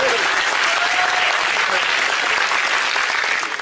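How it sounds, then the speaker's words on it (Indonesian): Sustained audience applause fills the room at a steady, dense level for several seconds, with a broad wash of clapping from many hands and faint crowd noise underneath, tapering slightly at the end. "Boleh tepuk tangan."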